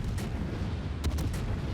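Minotaur cruiser guns open fire on the battleship Tirpitz during a naval video game battle, a few sharp distant booms breaking through a steady low rumble of engine and sea noise.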